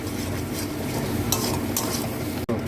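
Mixed vegetables sauté in ghee with chilli, coriander and turmeric powders, a close steady sizzle with a low rumble underneath and faint scraping of a spoon, cut by a brief dip near the end.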